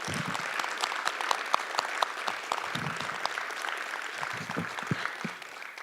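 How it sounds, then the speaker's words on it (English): An audience claps steadily in a dense patter of applause that holds for several seconds before gradually thinning out. "let's give a round of applause to all our speakers."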